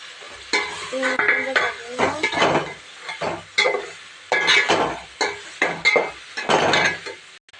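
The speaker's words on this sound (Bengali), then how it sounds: "মশলাটা ভালো করে কষিয়ে নেব।" Spice paste with chili powder and green chilies is fried and stirred in a pan, a spatula scraping and clattering in irregular bursts over a soft sizzle.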